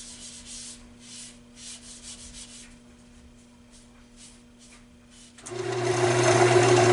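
Fine abrasive pressed by hand against a wooden bowl spinning slowly on a lathe, a steady motor hum first, then a louder, rougher rubbing hiss that swells and holds to the end.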